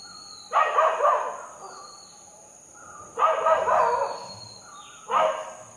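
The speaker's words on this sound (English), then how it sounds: "Neighbor's dog." A neighbor's dog barks in three separate bursts of several barks each, moderately distant, with quiet gaps between them over a steady background hum.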